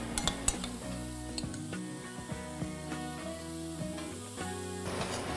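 Shrimp sizzling in a very hot grill pan, a constant soft hiss with scattered metallic clinks and stirring scrapes, fairly quiet and close.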